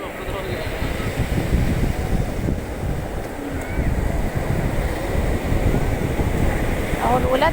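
Sea waves wash steadily onto a beach with constant surf rumble and wind buffeting the microphone, a continuous close wash with no distinct breaks, while people talk over it.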